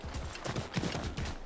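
Horse hooves beat a quick, steady clip-clop rhythm in the Assassin's Creed III video game, close and fairly loud, with faint mechanical clatter in the background.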